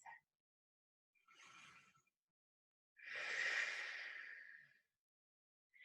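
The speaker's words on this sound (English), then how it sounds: "Take a deep breath." Slow deep breaths taken during a puppy dog yoga pose in a head, neck and shoulders flexibility class: a short breath, a pause, then one long, loud exhale, close and alone with no talking.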